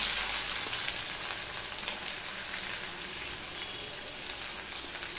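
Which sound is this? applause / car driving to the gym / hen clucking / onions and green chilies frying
onions and green chilies frying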